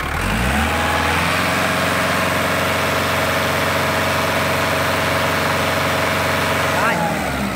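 Kubota 5018 tractor engine running at high revs, a loud steady mechanical roar with strong vibration that holds throughout, easing slightly near the end.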